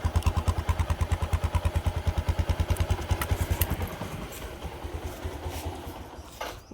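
A motorcycle engine idles close by with a strong, regular thudding beat that drops away after a few seconds to a softer, rougher running sound.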